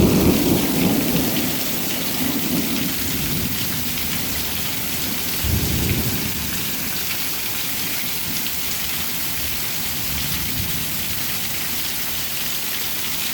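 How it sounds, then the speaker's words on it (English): Heavy pouring rain running over the eaves troughs and splashing into an open garage, a dense continuous roar close by, with low thunder rumbling at the start and again midway. "It's pouring."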